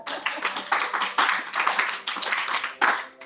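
A church congregation claps loudly and steadily, a dense, sustained round of applause filling the room for the whole stretch.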